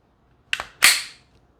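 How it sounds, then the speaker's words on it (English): A Glock 19 pistol slide dropped forward, a sharp metallic snap preceded by a lighter click, close and loud in a quiet room, alone with no talking. "So now you're going to drop your slide."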